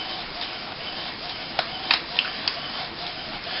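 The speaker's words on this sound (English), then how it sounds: "Look at that, that is printing perfectly." An HP PSC 1317 inkjet printer with an ink supply system fitted prints a page, giving a soft continuous mechanical whir with a few brief clicks and ticks from the carriage and rollers, one roller reportedly broken.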